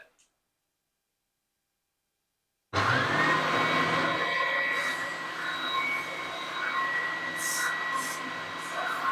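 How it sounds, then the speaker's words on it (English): A spindle sander shaping a wooden part for a five-string banjo starts up after a moment of silence. It runs as a loud, steady motor whir with a grinding sanding rasp on top, close by. "I'm just going to touch that on the spindle sander just to speed things up a bit"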